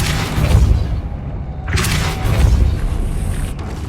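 Depulso spell impact in the video game Hogwarts Legacy, a pair of heavy booming blasts with rumbling low-end thuds and a whooshing burst, loud and close.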